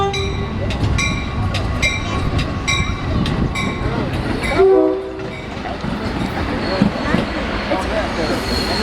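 A Metra commuter train passes close by at a railroad festival in Franklin Park, its horn blaring in several loud blasts over rumbling wheels, with people talking nearby.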